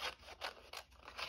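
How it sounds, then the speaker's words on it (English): Scissors fussy cutting around a paper peacock shape, four slow rhythmic snipping strokes with a papery rasp, close and fairly quiet, with no talking. "I'm going to fussy cut this out,"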